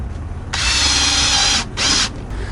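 A power drill drives screws into a wooden piece for a pocket-hole woodworking project, two loud whirring bursts of about a second and half a second, separated by a short pause, close and alone.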